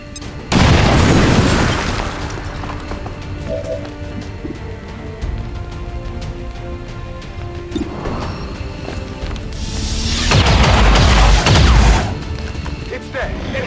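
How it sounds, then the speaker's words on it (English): A thrown grenade explodes in the video game XCOM 2, a loud close boom followed by rumbling debris, with a second blast and its long rolling tail arriving later over steady background ambience. "Throwing grenade!"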